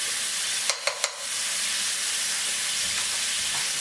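Onions caramelising with a pinch of salt in a pan for lamb karahi, giving a steady close hiss and sizzle, with three quick utensil knocks early on and no talking.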